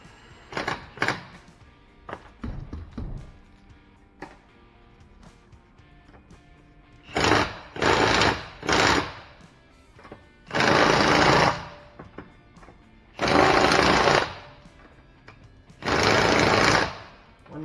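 A Milwaukee half-inch impact wrench tightens rear shock bolts on a 2006 Honda Pilot, several loud hammering bursts of about a second each after some lighter clanks and handling noises.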